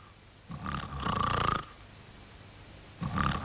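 A voice imitates snoring: a long rasping inhaled snore, a pause, then another snore beginning, loud and close.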